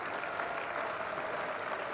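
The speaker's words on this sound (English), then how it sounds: "crowd, relieved applause almost." A cricket crowd at a 1991 England match applauding a team total of 150, a dense, even patter of clapping from a large stand, heard from a distance and without commentary.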